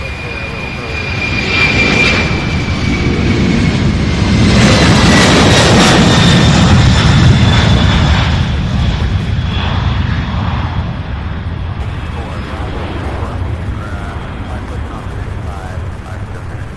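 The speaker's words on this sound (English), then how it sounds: "Absolutely amazing takeoff there by UPS." A UPS Boeing 747 takes off at Louisville's SDF airport with a loud, sustained jet engine roar that swells and then slowly fades into the distance.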